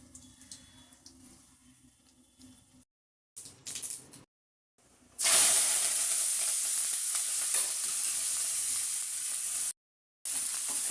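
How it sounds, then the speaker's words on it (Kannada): Mustard seeds sizzle and crackle in hot oil for a tempering, starting quietly, then bursting into a loud, continuous spitting hiss close by, cut by brief gaps. "ಎಣ್ಣೆ ಸ್ವಲ್ಪ, ಸಾಸಿವೆ ಸ್ವಲ್ಪ ಹಾಕ್ಕೊಳ್ತಾ ಇದ್ದೀನಿ."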